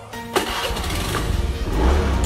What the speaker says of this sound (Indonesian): maka motor Anda akan nyala.